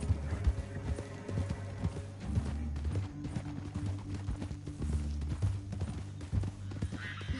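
Steady clip-clopping of horse hooves at a trotting rhythm in the video game Red Dead Redemption 2, close and clear, with occasional snorts over a low musical drone.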